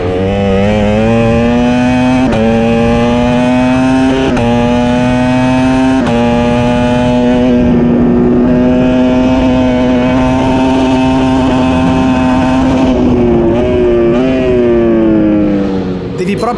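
A V4R racing motorcycle engine screams at high revs on a track, its pitch climbing and dropping with sharp pops and crackles at each gear shift, loud and close throughout.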